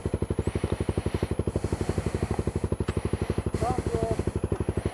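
A Honda CRF250L dual-sport motorcycle with electronic fuel injection idles after a crash on a trail ride, its single-cylinder engine pulsing in a steady, even rhythm, close and loud throughout, with brief voices over it.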